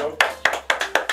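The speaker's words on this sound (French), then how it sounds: "A clap for myself." Hand clapping backstage at an album recording session: five sharp, close claps at an even pace, each ringing out briefly, with a faint low hum beneath.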